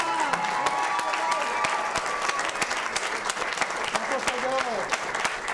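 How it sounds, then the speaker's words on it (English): A town hall crowd gives a veteran a steady round of applause lasting several seconds, with sharp individual claps standing out and faint voices and cheers mixed underneath. "can we please give this veteran, Tom, a round of applause and thanks for his service"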